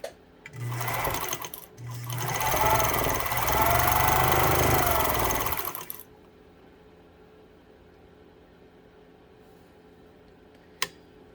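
A Pfaff 230 sewing machine runs in one loud, steady burst of stitching for several seconds, with a brief start just before, then cuts off to a quiet room broken by a single sharp click.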